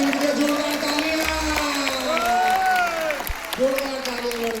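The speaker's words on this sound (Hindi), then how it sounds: "बॉयज मैडम के लिए जोरदार तालियां" An auditorium audience applauds for a woman after her recognition speech, a steady wash of clapping beneath a voice talking over it.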